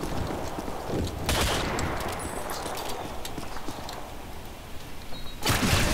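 Gunshots in a Modern Warfare 2 LAN free-for-all match: a loud burst of close fire, then steady battle noise with scattered distant shots, and a second heavy burst near the end.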